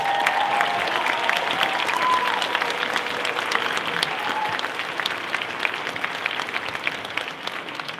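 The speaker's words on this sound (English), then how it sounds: "give them a big round of applause" Steady applause from a large audience at a school graduation ceremony, dense and sustained clapping that fades slightly toward the end.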